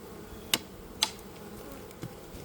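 Honey bees buzz faintly around opened hive frames, a low steady hum broken by a few sharp clicks, with no voices.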